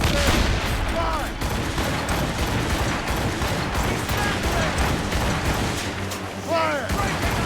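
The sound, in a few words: ship cannon broadside volley in Assassin's Creed Rogue video game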